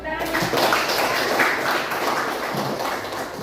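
Classroom students clap their hands together during a mathematics lesson, a dense burst of clapping blended with voices talking over it throughout.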